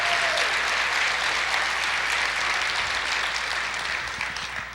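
A church congregation gives loud, continuous applause, a thick, even roar of many hands clapping that holds steady for several seconds and fades slightly at the end.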